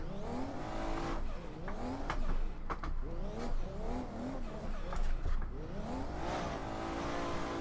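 A Nissan 180SX-style drift car in Assetto Corsa runs downhill on Fujimi Kaido, its engine rising and falling through repeated rev sweeps and gear shifts, loud and close with brief tire squeal between pulls.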